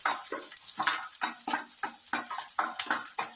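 Ingredients for green peas curry, including onions, are sautéed and stirred in a pan, with rhythmic scraping strokes about three per second over a soft sizzle, close and fairly quiet.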